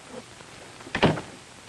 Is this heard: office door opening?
yes